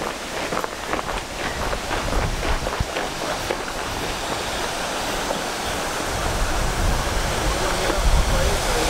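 Water rushes loudly through a canal lock on the Camino Francés between Castrojeriz and Frómista, a broad, steady roar that builds gradually and stays close, with some faint tapping in the first seconds.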